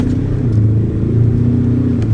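A 2021 Ford Ranger Thunder ute pulls away hard from a standstill, its engine giving a loud, steady, deep drone that holds strong for the whole couple of seconds with no voices over it.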